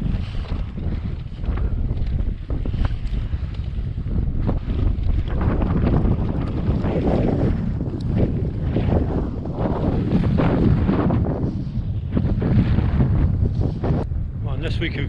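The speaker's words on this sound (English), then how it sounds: "The wind's coming into us, which is a bit unfortunate, but it's not as though it's blowing a gale, it's just a sort of steady breeze, really." A steady wind sweeps across an open field on the Ridgeway trail, buffeting the microphone with a continuous low rumble that swells and eases in gusts.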